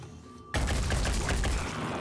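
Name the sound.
gunfire in the video game Phoenix Point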